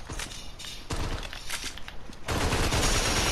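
Pistol shots crack in a zombie video game, several sharp reports in quick succession over busy background noise, growing louder and denser toward the end.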